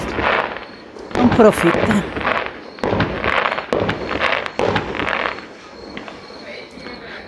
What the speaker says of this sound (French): Et ben là, il y a un feu d'artifice